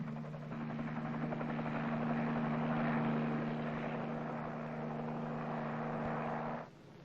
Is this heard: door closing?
no